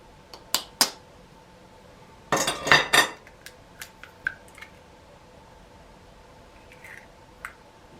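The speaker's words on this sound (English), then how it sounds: "Beat the egg and milk." A whisk or fork beats egg and milk in a bowl for scone dough, with sharp clinks against the bowl: two early taps, a rapid burst of clattering beats, then scattered lighter taps, close up and without talk.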